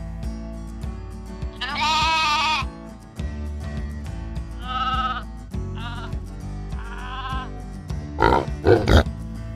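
Sheep and goats bleat repeatedly, several loud wavering calls overlapping one another with a few grunts, set against steady farmyard background noise and no talking.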